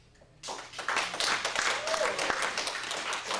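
An audience at a stand-up comedy show breaks into applause, a dense crowd clapping that starts abruptly and carries on loud and steady with scattered whoops.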